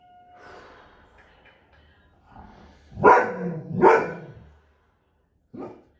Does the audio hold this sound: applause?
no